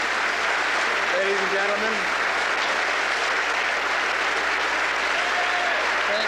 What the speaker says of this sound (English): He is getting an applause, not necessarily from the reporters, but from the Justice Department employees who are, as you see, lining the balcony.